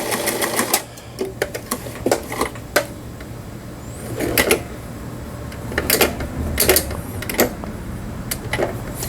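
A Brother computerized home sewing machine runs a straight stitch in several short bursts of rapid needle chatter. The bursts are separated by pauses with faint clicks and handling noises, close up and with no voices.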